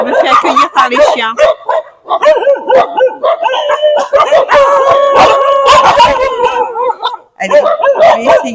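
A pack of dogs at a temple bark and howl in rapid, overlapping bursts close to the listener, with yips and drawn-out howls and short lulls between outbreaks.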